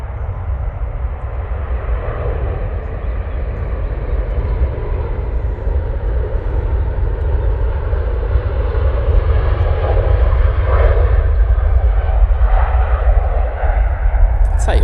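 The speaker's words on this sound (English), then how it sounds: "Emirates 777-300 now going off to Dubai." An Emirates Boeing 777-300 airliner takes off from Manchester Airport, a loud, steady, deep jet roar that holds throughout with broad rumbling noise, swelling slightly toward the end.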